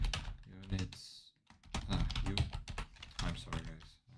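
Computer keyboard keys clatter in quick bursts while someone codes a game in the Odin language with RayLib. A person talks almost continuously over the typing.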